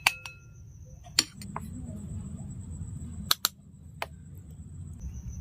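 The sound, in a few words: spooning cake batter into oiled bowls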